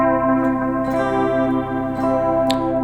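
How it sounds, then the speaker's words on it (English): A distorted electric guitar holds a major third interval, four half steps apart, loud and sustained with a dense buzzing tone and a few faint pick scrapes. "major third is next and is the foundation of major chords with 4"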